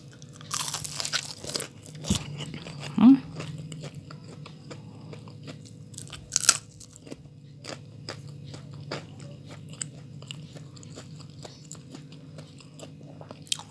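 Crisp crunching bites into fried corn fritters (bakwan jagung) made without egg, served with bird's eye chilies, with a few sharp close-up crunches early on and softer chewing afterward in a quiet room.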